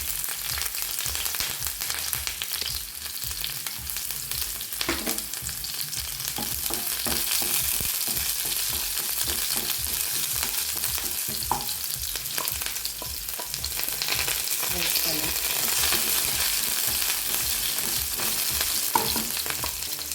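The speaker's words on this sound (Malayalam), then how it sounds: "എണ്ണ ചൂടായി കഴിഞ്ഞാൽ ആദ്യം പെരിഞ്ചീരകം, വലിയ ജീരകമാണ് നമ്മൾ എടുത്തിട്ടുള്ളത്, അത് അതിലേക്ക് ഇട്ട് കൊടുക്കുക" Fennel seeds dropped into hot oil for a papad samosa filling sizzle and crackle steadily, a dense, close, continuous frying hiss with occasional small pops, and no voices.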